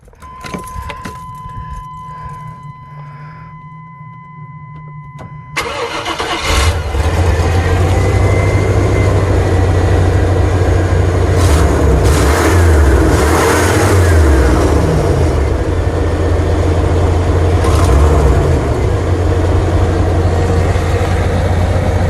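An electric-converted car's motor starts after keys jangle and a few clicks, then rises to a loud steady drone with several revving swells; no talking.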